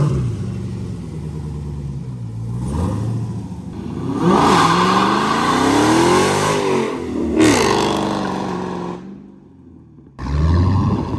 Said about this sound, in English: You burned tires more than you freaking went forward.